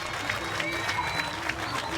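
A crowd in St. George, Utah applauds a women's doubles pickleball championship win, steady clapping from a moderate distance with a few brighter bursts, under faint background voices.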